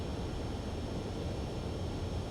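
A fighter jet approaching a runway to land in the Ace Combat 7 video game, a steady, even engine roar and rushing air held at one level throughout.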